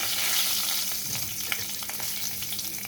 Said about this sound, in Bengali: ওই তেলের মধ্যে দিয়ে দিচ্ছি গোটা জিরে, দিয়ে দিচ্ছি তেজপাতা